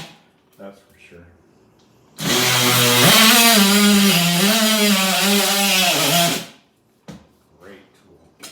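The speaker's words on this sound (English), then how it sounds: "Here we're going to probably use the multi-tool because we do have a lot of wires in there" An oscillating multi-tool cuts into a wall for an electrical cut-in box, a loud close buzzing whine that starts suddenly, holds steady for about four seconds with slight pitch wavering, then stops; brief quiet sounds before and after.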